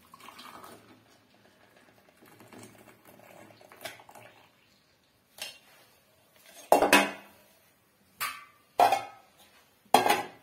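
Metal kitchen vessels clatter in a quiet kitchen: faint soft handling early on, then a series of sharp, close clanks as a pot is set down and knocked against other utensils.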